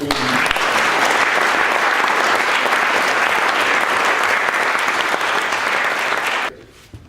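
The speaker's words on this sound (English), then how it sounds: "I think a collective round of applause for all" Sustained applause from a large audience at a debate held in London's Supreme Court, dense and steady for about six seconds before cutting off abruptly.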